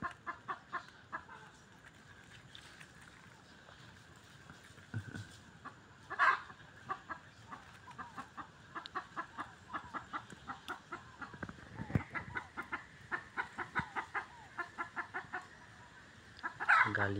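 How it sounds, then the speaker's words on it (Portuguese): A hen clucks in rapid, agitated bursts near a predator, repeated pulses running nearly the whole time, with a couple of sharper squawks standing out. "A galinha tá doida ali"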